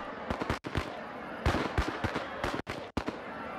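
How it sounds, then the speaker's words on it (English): Firecrackers thrown at a shield wall in the game RIOT burst in rapid uneven crackling pops, loud and close, in clusters over a few seconds. "Let's throw firecrackers at the shield wall to maybe break it."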